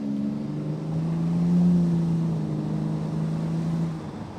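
A BMW E46 drives with a steady low engine drone and road rumble that swells and eases, alone without talk.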